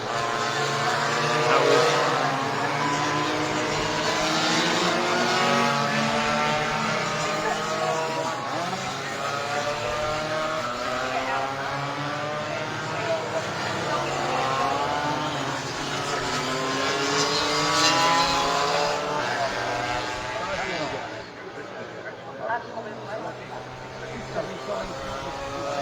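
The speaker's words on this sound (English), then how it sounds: "His engine sounds very nice." Stock scooter engines at Cadwell Park race circuit: buzzing two-stroke engines rising and falling in pitch as they pass and idle, loud and continuous, with people talking over the engine noise.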